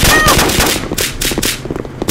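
Rapid automatic gunfire from the mobile multiplayer game SCP: Site-19 rattles loud and close in dense bursts, the shots running together with short gaps.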